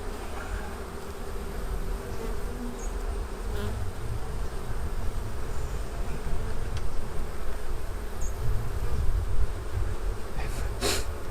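Defensive honeybees buzz steadily around an open hive full of nectar and capped brood during an inspection, a close, continuous drone with a few sharp bumps and rustles.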